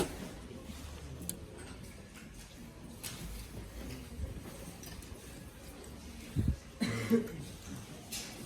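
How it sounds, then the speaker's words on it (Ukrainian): In a second-hand clothing shop, a couple of faint coughs from people nearby sound near the end over a low, steady indoor murmur. "Та що всі кашлять?"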